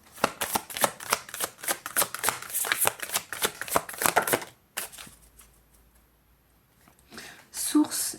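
Tarot cards are shuffled by hand in quick, crisp riffling bursts for about four seconds, close and fairly soft, followed by near silence and then a voice speaking quietly.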